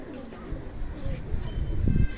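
Kept flying pigeons coo in low, rolling bursts close by, growing louder toward the end, with a voice talking faintly beneath.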